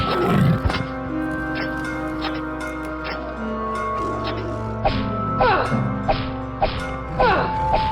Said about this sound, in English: There's a tiger behind the door.